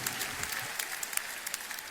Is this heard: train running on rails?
no